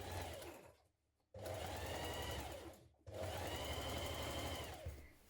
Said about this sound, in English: So let's stitch those seams in place.